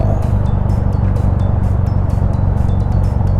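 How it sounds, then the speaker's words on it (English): Steady engine drone and road roar heard from a Honda Goldwing GL1500 motorcycle as it rides through traffic, with repeated brief hissing swishes of passing vehicles, loud and continuous with no talking. "Got a little bit more traffic."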